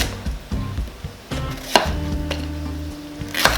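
Knife chopping vegetables into cubes on a board while cooking a quick, tasty home lunch: a close series of sharp, fairly loud knocks, irregular at first, then a denser run of cuts with a few louder strikes, no talking.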